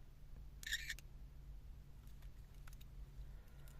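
A brief electronic toy-camera shutter chirp rings out once, short and bright, over a faint steady hum and scattered small clicks.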